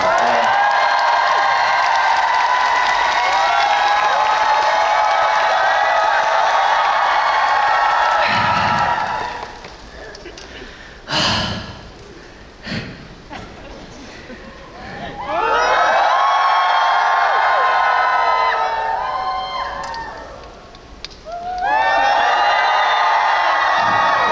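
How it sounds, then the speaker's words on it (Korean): Concert audience at a solo K-pop show bursting into loud applause and cheering with high whoops, fading into a quieter lull with a voice, then swelling again into two more strong rounds of cheering. "박수 좀 주시죠"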